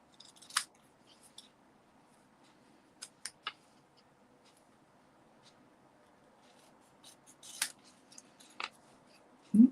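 Scissors snip at a decorative Christmas tree, trimming it down in a few scattered, close cuts with quiet pauses between and a louder snip at the end.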